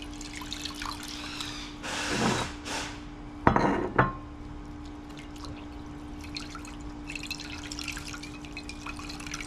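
A Red Wing leather boot sole is rinsed off with water, with a few splashy bursts and dripping over a steady background hum.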